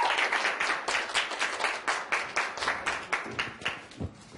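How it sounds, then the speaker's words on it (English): A class claps after an author's talk on writing dialog: a dense burst of hand clapping that stays strong and even, then thins and fades toward the end, with no talk over it. "now you can clap, guy in the blue shirt"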